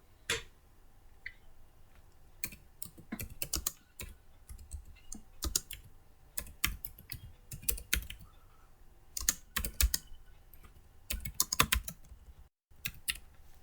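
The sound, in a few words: typing a comment on a computer keyboard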